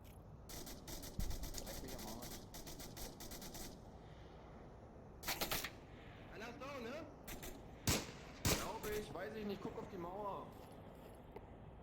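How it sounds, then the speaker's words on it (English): Rapid bursts of suppressive gunfire from the VR shooter game Onward crackle in a competitive match, repeated volleys sitting under steady commentator talk throughout. "and now he's doing suppressive fire"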